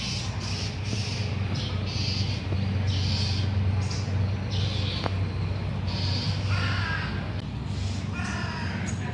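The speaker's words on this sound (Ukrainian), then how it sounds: "Ось ця ворона за білочкою бігала." A crow that had been chasing a squirrel caws repeatedly outdoors in bursts of harsh calls spread across the stretch, moderately near, over a steady background hum, with no speech.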